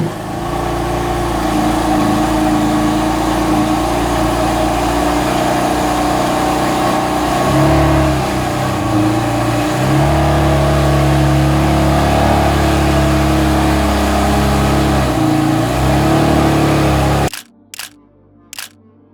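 A BMW M4 GTS with a titanium Kratos exhaust idles loudly and revs up several times in a long, steady engine drone with rising and falling pitch, cutting off abruptly before a few faint clicks.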